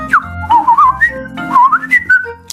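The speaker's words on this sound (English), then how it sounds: "Now flap your arms like a bird and whistle." A person whistles a short, wavering tune of quick sliding notes, clear and close, with no talking.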